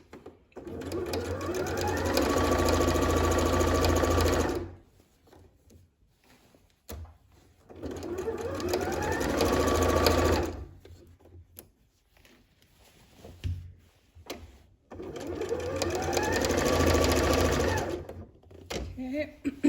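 A sewing machine stitches elastic into the waistband of pants in three sustained close-up runs of steady motor whir, each a few seconds long, separated by quiet pauses with small handling clicks.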